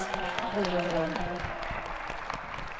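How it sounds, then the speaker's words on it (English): At a poetry reading and discussion, an audience gives a round of applause, a steady soft wash of clapping with a voice speaking over it. "Let's give them all a round of applause again."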